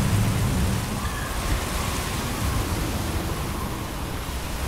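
Rough North Atlantic sea around a U-boat in Silent Hunter III, a steady loud broadband wash of waves and spray that rolls on continuously without a break.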